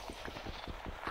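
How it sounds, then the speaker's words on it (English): Horse hooves clip-clopping in Minecraft during a Minecolonies session, a steady run of soft game-sound hoofbeats about every tenth of a second, close and fairly quiet with no talk over them. "We're actually going to try to get the horse out of here."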